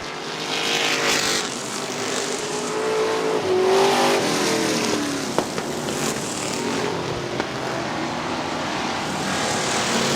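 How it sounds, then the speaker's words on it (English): Street stock race cars at Butler Motor Speedway roar around the oval during a Fall Classic race, engines loud and continuous with pitch swells as cars pass, plus a few sharp bangs. "Almost getting tangled up with McCaffrey in the 64 car"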